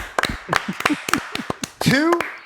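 A few people clap to welcome guests onto a lacrosse podcast, sharp separate claps in an uneven rhythm, close and fairly loud, followed by a voice speaking.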